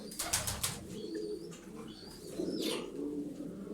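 Several pigeons coo in low, repeated throaty phrases, close and steady, with a few brief higher chirps and bird calls scattered over the top.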